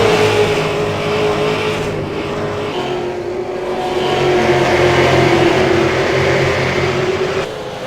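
Race cars in a sim racing game run around a short oval track, a loud, steady engine drone with shifting pitch as cars pass and hold speed, under a race broadcast setting.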